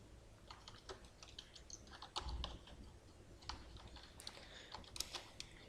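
Someone types C++ code on a computer keyboard, a quiet, irregular patter of key presses with small bursts and pauses and no talking.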